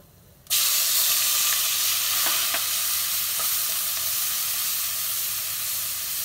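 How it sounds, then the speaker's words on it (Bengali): Whole spices and onion hit hot oil left from frying chicken for biryani, setting off a sudden loud sizzle that holds steady for several seconds, with a few light utensil clicks and no talking. "পেঁয়াজটা দুই তিন মিনিট ভাজিবি"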